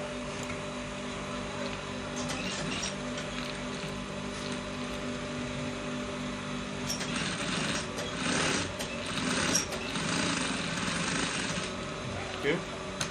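A sewing machine runs steadily, top stitching a folded pocket bag on a trouser, with a constant mechanical whir and a louder burst of stitching in the latter half.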